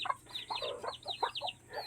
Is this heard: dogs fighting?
no